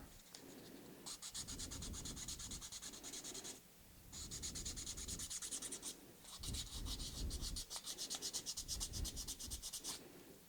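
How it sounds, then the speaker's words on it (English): Sandpaper rasping over a 3D printed part coated in filler primer, steady scratchy strokes running continuously with two brief pauses, close and fairly loud, no talking. "So it's going to take a little bit more effort to sand."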